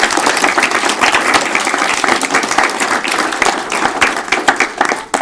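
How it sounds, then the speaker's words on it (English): A school board meeting audience claps for recognized students, dense sustained applause from a roomful of people, loud and close, with scattered individual claps standing out near the end. "So if we could give all of them a round of applause."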